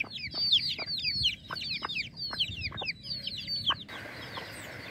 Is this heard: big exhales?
no